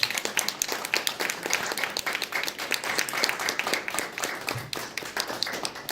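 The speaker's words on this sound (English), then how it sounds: "let's give her a big round of applause" Audience applauding a 2019 alumni award winner: sustained, dense clapping from a crowd, even and fairly distant, filling the room with no voices over it.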